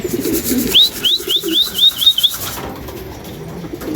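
Racing pigeons flap their wings at feeding time: a rapid run of about seven sharp, rising wingbeat whooshes, close and fairly loud, then softer shuffling and rustle with no talking.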